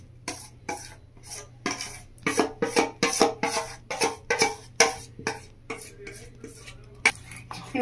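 Ground kalai dal paste is mixed into flour in a bowl, giving a rhythmic series of close, scraping stirs that repeat quickly and steadily.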